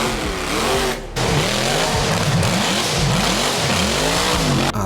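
A racing car engine revs hard, its pitch sweeping up and down repeatedly in loud, close bursts with a brief dip partway through, accompanied by gritty tire and road noise.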